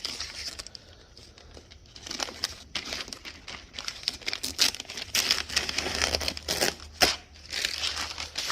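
FrogTape painter's tape is pulled and torn by hand nearby, making irregular crinkly crackles and short ripping bursts for several seconds in a quiet room.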